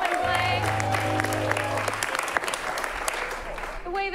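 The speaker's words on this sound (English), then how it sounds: "Let's have a round of applause for Johan and all the music he's been playin" Crowd applauding at an improv comedy show, sustained clapping and some cheering over a low held musical tone that stops midway, the applause continuing and tapering toward the end.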